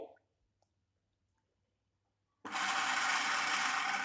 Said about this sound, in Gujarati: હવે એક મિક્સર જાર લઈ તેમાં આપણે અડધું અડધું કરીને ક્રશ કરી લઈએ।